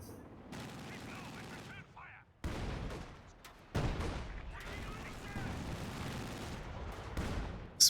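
An artillery barrage in a strategy video game rumbles as a dense, continuous roll of distant booms and crackling fire that swells and fades in waves, with a sharp blast at the very end.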